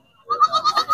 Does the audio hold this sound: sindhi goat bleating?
yes